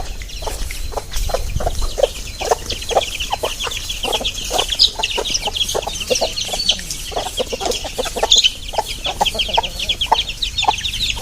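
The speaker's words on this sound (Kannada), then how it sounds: "ಈ ಕೋಳಿ ಎಲ್ಲಿ ಹಾಕೋದ್ರೂ ಬರುತ್ತೆ ಗೈಸ್." Chickens cluck busily and continuously at close range while being fed crushed maize grain, a dense patter of short overlapping calls with no talking.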